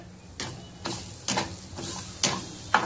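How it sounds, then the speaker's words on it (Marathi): Grated coconut and jaggery stirred in a pan over low heat, with repeated scraping strokes of a spoon about every half second against a soft steady sizzle, close by. "सर्व मिश्रण आपण गुळ छान त्याच्यामध्ये वितळेपर्यंत मंद आचेवर छान परतून घ्यायचं आहे"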